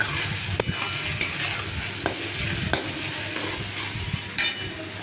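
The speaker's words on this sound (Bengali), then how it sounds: "নুন দিয়ে এবার সেটাকে ভালো করে নাড়াচাড়া করে নিলাম" Vegetables fry in a pan with salt for chow mein, a constant crackling sizzle cut by repeated scraping stirs and the odd sharp click of a utensil against the pan, close and steady, no speech.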